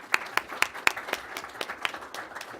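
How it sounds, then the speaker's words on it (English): Brief audience applause at a policy talk on greenhouse gas emissions in China, with a few sharp, distinct claps standing out over a thin spread of clapping that quickly dwindles. "some applause here real quick"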